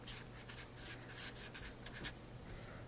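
Math being written down on paper, heard as soft, close scratching and rubbing strokes of a pen in short irregular bursts, fairly quiet, with no talking.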